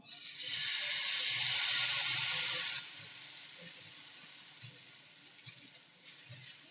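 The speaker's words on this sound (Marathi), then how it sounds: "आता आपण हे मिश्रण तव्यावर पसरून देऊया" Varai (barnyard millet) batter hits a hot griddle in groundnut oil with a loud hissing sizzle that fades after a few seconds into a quieter crackle with faint scraping ticks.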